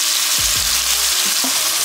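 Steady, dense sizzling of chicken browning in a hot pan for honey-garlic chicken, close and continuous, with a few soft knocks and scrapes in the background.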